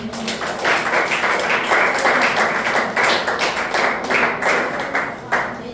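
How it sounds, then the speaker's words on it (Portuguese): Loud, rhythmic clapping fills the space, a church congregation at a worship service applauding steadily with pulsing beats and no voices on top. "aplaudimos o Senhor"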